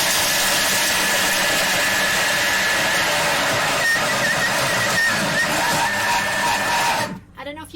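A Thermomix blender mills hazelnuts and chocolate with a loud, steady, close grinding roar that runs for about seven seconds, then cuts out abruptly.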